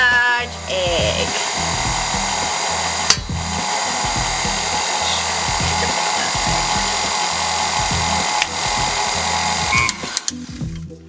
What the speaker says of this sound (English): we're gonna whisk that shit